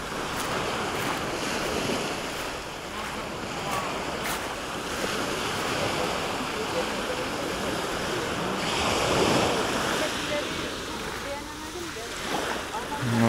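Sea waves wash steadily onto an empty beach in Alanya at sunset, a continuous broad surf roar with wind buffeting the microphone and a slightly stronger swell near the end.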